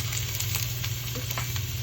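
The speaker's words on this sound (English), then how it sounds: "we are now going to add a little bit more oil, and we are going to add in 1 cup of chopped onions" A cup of chopped onions hisses in fresh oil alongside sautéed okra for a bhindi masala, a dense close sizzle with light crackles and no talk.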